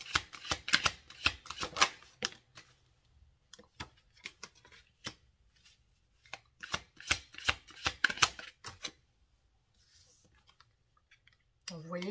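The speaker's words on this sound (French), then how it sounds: "On va continuer avec le tirage des oracles." Oracle cards shuffled for a reading: bursts of crisp riffling and slapping card sounds in quick clusters, pausing briefly between rounds, fairly close and moderately loud.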